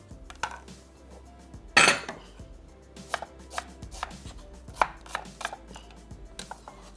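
Half an onion is chopped with a knife on a board in a home kitchen, making a run of crisp, irregular taps up close, with one louder clatter near the start.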